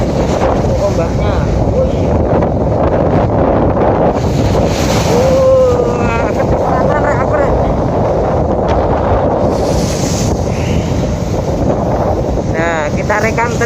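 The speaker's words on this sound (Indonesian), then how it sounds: "Ombaknya lumayan gede." Large sea waves wash and slap around a boat crossing the Bali Strait, with loud continuous surf, heavy wind buffeting the microphone, and engine rumble beneath, while people talk briefly over it.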